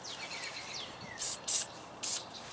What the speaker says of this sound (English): I'm going to put a little spray on the threads.